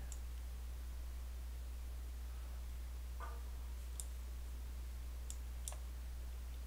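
Sparse mouse clicks from working in CAD software while profiling bottle curves, a few faint isolated ticks spaced seconds apart over a steady low hum and background hiss.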